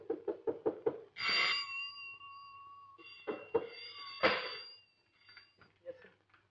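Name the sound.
knocking on a door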